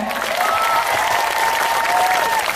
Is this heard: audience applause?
yes